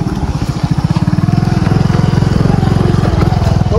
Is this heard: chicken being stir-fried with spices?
no